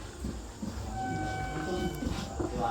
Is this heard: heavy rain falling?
no